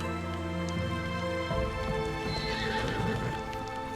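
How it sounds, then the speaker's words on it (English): A horse in Assassin's Creed Shadows clip-clops and whinnies indoors, with a drawn-out neigh and the clatter of hooves. Everything sits over a steady tonal game soundtrack. "Horse came tumbling out of this bedroom."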